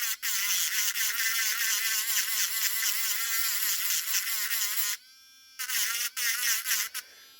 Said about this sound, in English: So now I'm going to clean up the solder here. Just using a grinding stone.